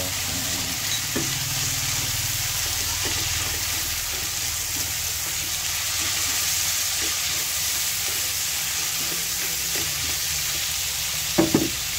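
Sliced bitter gourd sizzling in a pan with ground pork skinless longganisa, a steady loud fry with occasional stirring scrapes and clinks, a sharper clatter near the end.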